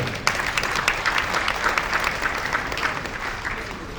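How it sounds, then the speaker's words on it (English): An audience at a Nigerian surveyors' association launch gives the planning committee a round of applause: dense, steady clapping at moderate volume with a few sharper claps, lasting throughout. "Please, a round of applause for the planning committee that put on this stage here together."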